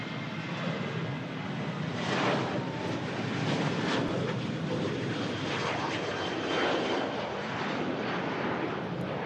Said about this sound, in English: Another A350 1000 in from Orlando.